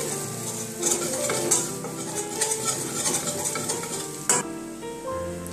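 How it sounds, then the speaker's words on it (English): Cumin powder and ginger fry in a pan with a soft, steady sizzle, broken by stirring and the scrape and clink of a utensil against the pan. "just fry it for some time"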